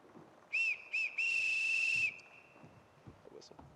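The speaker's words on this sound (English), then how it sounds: "Everyone in this house answers to a whistle." A sharp whistle is blown in a household scene from a stage production of The Sound of Music: two short blasts followed by a longer sustained one, loud and clear against a quiet room.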